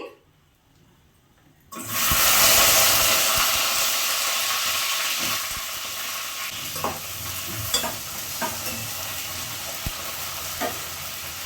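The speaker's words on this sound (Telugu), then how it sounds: "పచ్చిమిరపకాయలు వేగిపోయినాయి" Green chillies drop into hot oil for tomato chutney, setting off a sudden loud sizzling burst after near silence that settles into steady frying crackle with occasional stirring clinks.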